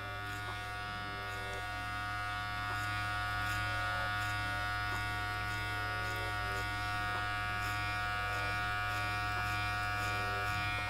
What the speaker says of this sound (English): we're turning the clippers around and we're just flicking out